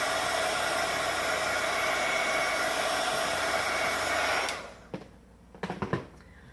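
A heat tool drying ink coloring on die-cut card pieces runs as a loud, steady whooshing hum for several seconds, then switches off, leaving a few faint handling clicks and taps.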